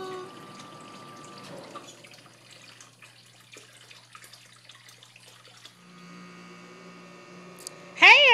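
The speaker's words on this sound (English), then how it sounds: "we got the pump working without leaking" A pond water pump runs in a backyard turtle pond, giving a low steady hum and trickling water that shift in tone partway through, followed by a brief louder burst at the end.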